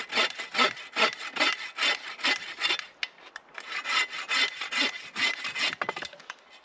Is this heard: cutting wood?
yes